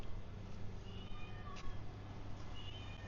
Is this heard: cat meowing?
yes